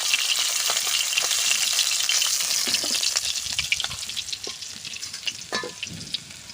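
Fish sizzles steadily in hot oil in a home kitchen, a dense continuous crackle with occasional pops and spatter, loud and close, with no talking.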